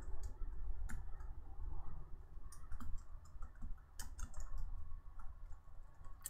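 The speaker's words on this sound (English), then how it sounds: "having a hard time with my keyboard today" Quiet, irregular clicking of keys being pressed on a computer keyboard, in short bursts close by, with a faint low hum underneath.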